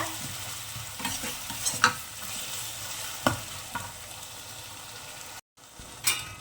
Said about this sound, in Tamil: இப்போ வந்து இதை நல்லா வதக்கிக்கோங்க.